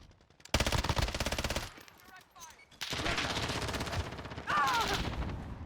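FAL rifle fire in Call of Duty: Modern Warfare, two long bursts of rapid automatic shots separated by a short lull with faint game sounds, then a third burst; loud and close.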